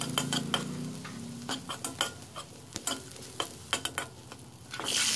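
Faint sizzling of garlic frying in a wok under a series of sharp clinks and scrapes from a utensil stirring, irregular and close.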